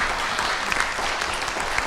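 Applause from an audience at a university comics symposium panel, a dense, steady wash of many hands clapping loud and close throughout, with no voices over it.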